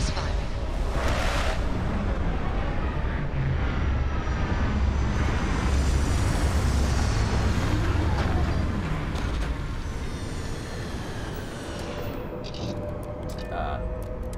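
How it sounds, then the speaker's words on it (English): A spaceship's retro thrusters fire during a landing in Starfield. It is a loud, continuous engine roar with a deep rumble that eases slightly toward the end, and a voice speaks briefly over it. "Retros firing."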